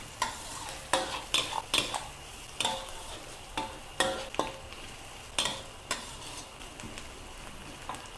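Shallots stir-fried in a pan, cooking until soft, with a steady sizzle broken by repeated sharp scrapes and clacks of a spatula against the pan, close and alone with no talking.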